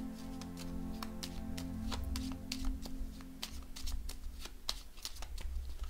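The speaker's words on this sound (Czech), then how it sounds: "Tak, míchám tady karty pro pany." Tarot cards shuffled rapidly by hand, a dense run of crisp riffling snaps and taps repeating steadily over a low background hum, with no one speaking.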